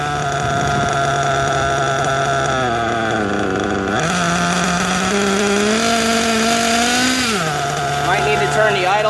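A nitro RC model engine runs loud and close during break-in, with a steady buzzing drone that rises briefly in pitch twice as the throttle is blipped.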